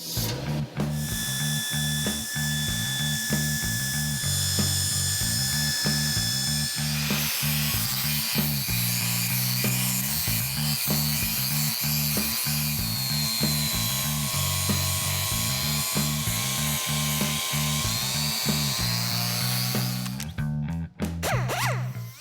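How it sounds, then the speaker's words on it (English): A high-pitched power grinder whines steadily while the sanding roll rasps against metal exhaust tubing in repeated passes, close and loud throughout. "Now we'll dig into the sanding rolls"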